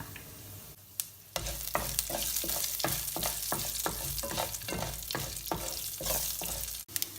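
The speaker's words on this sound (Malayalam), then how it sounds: "ഇതിൽ അരി ചേർത്താണ് ഈ കടുക് വറക്കുന്നത്." Mustard seeds, broken dried red chillies and a spoonful of rice frying in hot oil, a dense close sizzle peppered with rapid rhythmic crackles and pops as the seeds burst, no talking.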